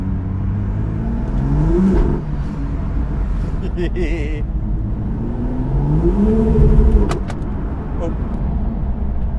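A BMW with its exhaust valve held open rumbles loudly at close range, rising in a couple of throaty revs and settling back to a steady deep burble; a voice briefly exclaims over it.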